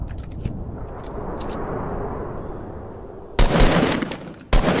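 Gunshots in a Fortnite Battle Royale match: a couple of sharp, loud bursts near the end, after a stretch of low rumbling ambience.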